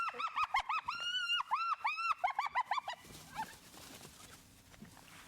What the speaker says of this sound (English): It's amazing how loud hyenas can be